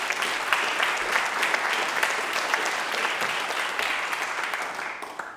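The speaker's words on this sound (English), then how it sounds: "Let's have a round of applause for Michaela." Sustained applause from an arts district awards audience for the evening's sound and light technician, thick and even throughout before easing off at the close.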